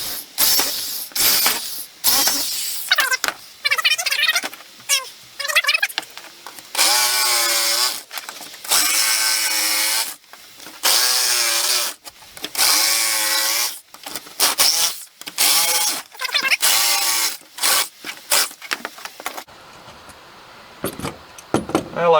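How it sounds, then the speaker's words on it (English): A corded power drill whines in repeated bursts while cutting during a kitchen install, starting and stopping with short pauses between runs, close by and fairly loud. "got the corded drill out to do the other one."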